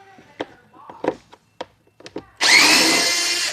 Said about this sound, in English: I'll unscrew this all the way around.